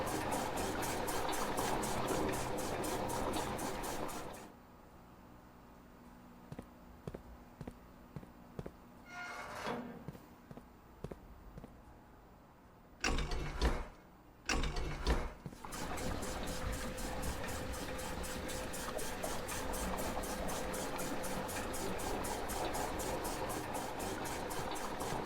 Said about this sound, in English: we'll reverse this switch and pump the fountain into tank 1